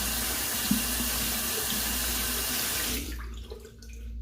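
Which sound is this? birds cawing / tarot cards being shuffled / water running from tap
water running from tap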